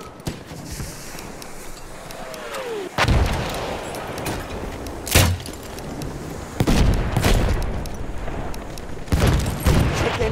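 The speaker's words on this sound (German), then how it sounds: "Granate raus!" Explosions and gunfire in Battlefield 1 conquest battle: several sharp heavy blasts spaced a few seconds apart over continuous rumbling battlefield noise, fairly loud and without talk.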